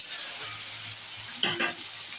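Onions frying with spices in a pan, close up, a steady soft sizzle with a brief burst of stirring scrapes near the middle.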